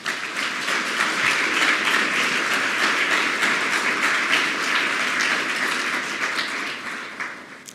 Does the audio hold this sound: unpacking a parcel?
no